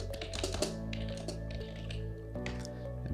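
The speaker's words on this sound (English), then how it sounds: "I can just start typing up here" Typing on a computer keyboard while entering tasks in a to-do app: a steady run of close, quick key clicks with small pauses, over a low constant hum.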